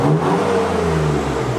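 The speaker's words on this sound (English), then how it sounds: "What he's doing by revving the engine" A BMW F82 M4 engine revs steadily at high speed on a dyno, running E85 fuel, a loud, continuous droning roar with a slight waver in pitch and no voices.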